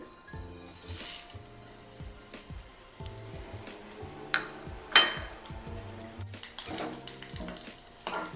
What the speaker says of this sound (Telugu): ఈ పోపు సామాన్లన్నీ ఆయిల్ వేగిన కాగిన తర్వాత ఈ పోపు సామాన్లన్నీ దీంట్లో వేసేస్తున్నానండి